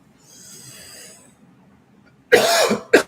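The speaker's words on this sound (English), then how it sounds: "Excuse me for coughing." A person coughs in two harsh, close bursts: a longer hacking cough followed by a short second one, after a quiet stretch of faint breathy noise.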